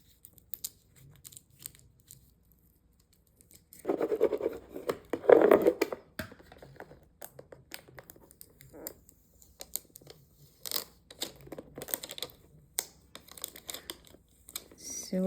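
Used Cricut vinyl transfer tape being handled at a craft table, giving soft crinkling and crumpling with scattered sharp crackles and scratchy rustles, loudest in a burst early on and then in short intermittent bits.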